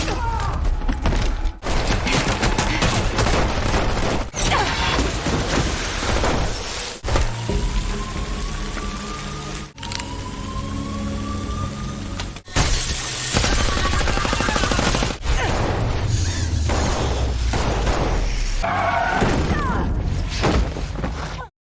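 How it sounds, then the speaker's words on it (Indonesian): A film shootout plays out as dense, loud gunfire, with rapid cracks and bursts mixed into a churning action soundtrack. Whooshes and brief pauses break up the constant roar. "terjadi baku tembak"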